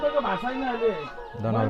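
A goat gives a short, quavering bleat close by in a village in Chitwan, Nepal, with a second cry starting just after.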